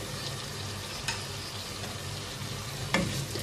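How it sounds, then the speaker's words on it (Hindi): Potato cubes frying in a pot with spices and dissolved chicken stock for potato rice, an even, steady sizzle with a couple of faint clicks from stirring. "और इनको अब 2-3 मिनट अच्छी तरह से भून लेंगे।"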